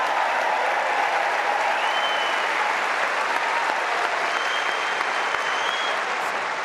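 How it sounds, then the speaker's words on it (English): A Wimbledon tennis audience applauds Taylor Fritz, a steady, dense wash of clapping held at even loudness from start to finish with no voices on top. "ladies and gentlemen, a round of applause for Taylor Fritz."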